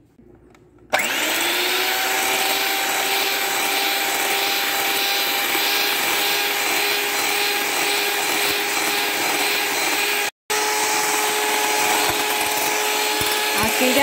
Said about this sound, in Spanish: A batir las claras de huevo a punto de nieve.